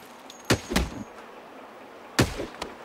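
Two separate bursts of gunfire in the Saints Row video game, the first a quick pair of loud, sharp shots and the second a single crack with a short tail, against a quiet background.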